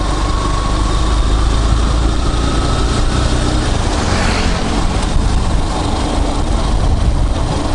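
A 175 cc Baracco four-speed budget motorcycle engine running steadily, a loud continuous drone with a buzzy high edge close by, no gear changes or pauses, riding past a small 24-hour shop at night.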